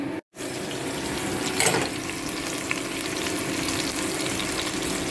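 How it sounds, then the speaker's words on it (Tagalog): Beef sautéing in a pan for a stew, a steady bright sizzle with a brief dropout near the start and a short louder burst of stirring, no voices. "Tapos, igigisa natin siya."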